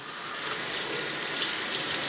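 Tap water running steadily into a sink during hand washing, a close, even hiss with no voices.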